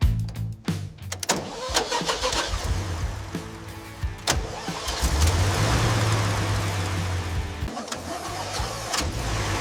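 Restored 1978 Toyota Land Cruiser FJ45 pickup engine cranking over and catching, then settling into a steady, rumbling idle, close and loud in a workshop with clicks and clatter around it.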